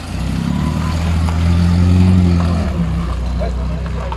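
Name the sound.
MGB sports car arriving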